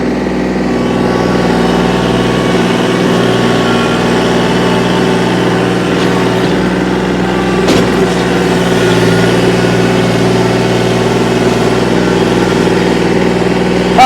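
A 2022 Kubota L2501 compact tractor engine idles loudly and continuously, a low droning hum with no speech over it.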